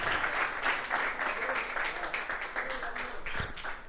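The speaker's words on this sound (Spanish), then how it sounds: "Dele un aplauso bien fuerte al Señor" A church congregation claps during a service, making a bright wash of hand claps that pulses in waves. A voice is heard speaking over the clapping.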